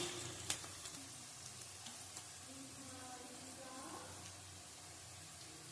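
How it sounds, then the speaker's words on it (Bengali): Chopped onions and green chillies fry in oil in a pan at home, a soft steady sizzle with a few light clinks and stirring scrapes, fairly quiet and close. "পেঁয়াজটা ভাজা হয়ে গেছে।"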